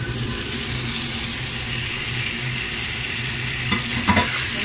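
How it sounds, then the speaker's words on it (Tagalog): Marinated pork strips stir-fry in a hot pan, giving a continuous dense sizzle, close and steady, with a couple of brief scraping stirs near the end and no voices. "Ilagay na itong marinated pork."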